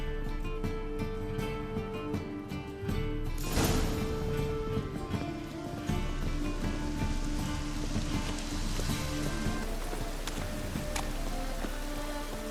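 Rain in The Witcher 3: Wild Hunt, a steady hiss of falling drops over a low hum with a sustained musical drone, with a brief louder burst early on.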